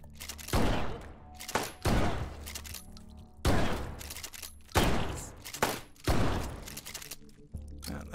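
Gunfire in the VR shooter Hot Dogs, Horseshoes & Hand Grenades, a volcanic-map Take & Hold run: several sharp, loud close bursts of shots in quick groups separated by short pauses, each with a ringing tail.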